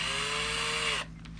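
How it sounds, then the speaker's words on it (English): A power drill with an 11/64 bit bores a starter hole for a bullet mirror on a first-generation F-Body, giving a loud, steady high whine for about a second before cutting off into quiet handling noise. "it's a smaller drill bit just to do a starter hole on these"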